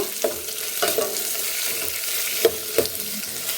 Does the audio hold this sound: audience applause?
no